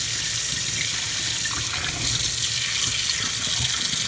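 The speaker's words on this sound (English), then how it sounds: "I'm just giving it a nice rinse here." Cut potatoes rinsed under a running kitchen tap, a steady, close hiss of splashing water that stays even and unbroken from start to finish.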